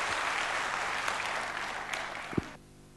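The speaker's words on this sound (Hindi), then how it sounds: "अगर हैं तो जोर से ताली बजाएं।" An audience at a motivational talk session claps together in steady, dense applause for about two and a half seconds before it stops abruptly, leaving a faint room hum.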